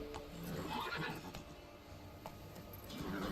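Roach, a horse in a video game, gives a faint neigh amid soft hoof clip-clops and low background game sounds.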